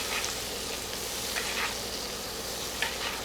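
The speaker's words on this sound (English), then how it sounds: "Now we're going to continue basting until we get to about 145 degrees" A pork loin chop sizzles steadily in a hot pan while being basted, a continuous close frying hiss with a few brief spattering pops and no voices.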